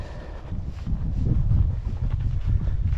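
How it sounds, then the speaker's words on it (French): Wind buffeting the microphone on an open plateau trail during a 52 km trail run in Lozère, a loud low rumbling roar that swells and gusts steadily throughout. "Il y a du vent."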